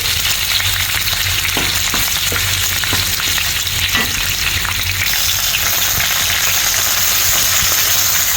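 Chopped garlic and Thai cumin hit hot oil for a Thai fish dish, giving a loud, dense, continuous sizzle that holds steady throughout, close up and with no talking.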